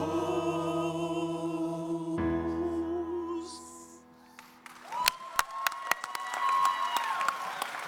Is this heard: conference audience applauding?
yes